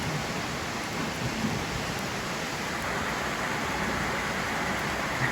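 A Texas rainstorm pours steadily and densely, with a low rolling rumble of distant thunder blended into the constant hiss of rain, even and sustained throughout.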